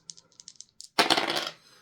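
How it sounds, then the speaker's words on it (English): Dice rolled onto a table during a card-shuffling game, a few light ticks followed by a dense clattering burst of about half a second that quickly dies away. "I'm going to roll the dice to see how many times we're going to shuffle it"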